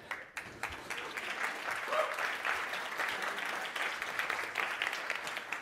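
Attendees at a games research and user experience talk applaud in a moderate, fairly distant crowd clapping that continues steadily, with a brief voice near the start.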